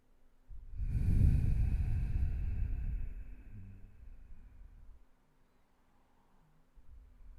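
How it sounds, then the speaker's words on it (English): One long, deep breath during a yoga class, a strong airy inhale that eases into a slow, fading exhale, close and alone before a faint breath at the end. "continue to deepen your inhales and slow down your exhales."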